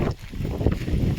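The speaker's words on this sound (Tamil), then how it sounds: "காற்று செம்ம காற்றடிக்கி." Strong outdoor wind buffets the microphone on an overcast day just before rain, making a steady, loud low rumble that surges and dips across the whole moment.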